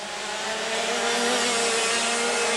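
Dirt racing karts roaring around an outdoor race track, a steady loud engine drone building slightly as the pack approaches, continuous with no pauses.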